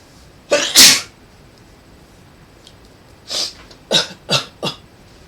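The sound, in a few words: sneeze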